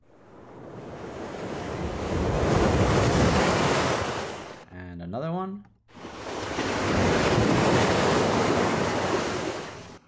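AI-generated ocean waves from Adobe Firefly roll in as two long, hissing surges of surf with a windy wash, separated by a brief gap where a voice speaks quietly.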